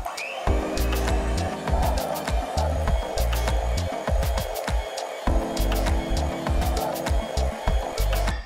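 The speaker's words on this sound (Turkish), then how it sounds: "Sarısının içine de toz şekerimi ekleyerek iyice eritinceye kadar çırpacağım." Egg yolks being whisked with granulated sugar for a sponge cake batter, a steady, continuous mechanical whirring with rapid rhythmic clicking throughout, close and loud with a brief dip midway.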